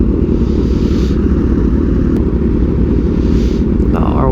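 A Kawasaki Ninja H2 motorcycle engine running loud and close, a dense, rough roar holding steady with slight swells in revs, ending in a short rising whine.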